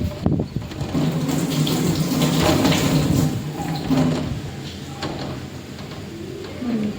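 Tap water running steadily while hands are washed, a close continuous splash with small changes as the hands move through the stream, and birds cooing faintly nearby.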